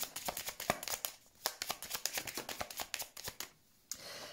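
Lenormand cards shuffled for a reading, giving quick repeated papery riffles and flicks in a steady rhythm, close and fairly quiet, with a brief pause near the end and no talking.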